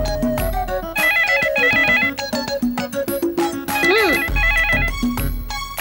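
A phone in a Gujarati family drama rings with a bright, repeating melodic ringtone that sounds in pulsed bursts for about six seconds, a sliding tone sweeping through the middle.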